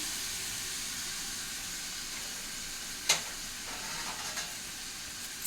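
Greens cooking with tamarind in a pan give a steady, close hiss and sizzle throughout, broken by one sharp scrape or clatter midway and a few lighter stirring taps, with no talk.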